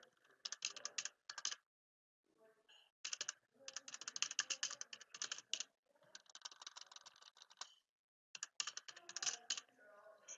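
Fingers tapping on a computer keyboard while setting up Windows 7 in VirtualBox, quick clicky bursts of keystrokes separated by short pauses, close and fairly quiet.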